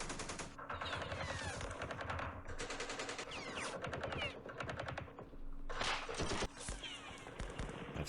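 Gunfire in the war video game Campaign Series Middle East during the Battle of Jerusalem, with long rattling bursts of rapid machine-gun fire broken by brief pauses and scattered single shots.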